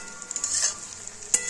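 Cloves and cardamom fry in ghee and oil with cauliflower, carrot, capsicum, cashews and raisins for fried rice, a soft sizzle with light stirring scrapes and a sharper clink near the end.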